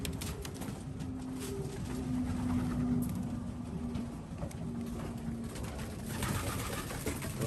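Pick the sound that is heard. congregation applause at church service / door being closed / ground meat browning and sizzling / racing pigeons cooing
racing pigeons cooing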